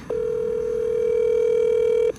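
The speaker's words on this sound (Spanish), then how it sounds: "La voy a llamar en vivo a la ministra para ver qué me responde." A telephone dial tone sounds while a live call is being placed, one clean steady electronic tone holding for about two seconds before cutting off abruptly, loud and alone.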